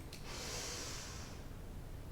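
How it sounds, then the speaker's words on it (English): One slow, deliberate breath drawn in through the nose, a soft close airy hiss that swells and then fades over about a second, with no speech. "we're going to breathe in through the nose. Big breath in."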